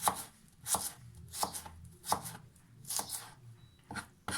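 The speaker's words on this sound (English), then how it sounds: "shallot, nice thin rings, nice thin slices, however you want to put it." A knife slicing a shallot into thin rings, giving about seven crisp chopping strokes at a steady pace. The cuts are close and distinct, with no talk.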